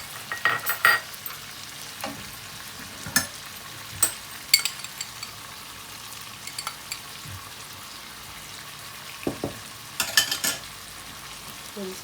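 Chicken karahi fries with freshly added tomatoes and green chillies, a soft steady sizzle punctuated by frequent sharp clinks and scrapes of a spatula stirring against the wok.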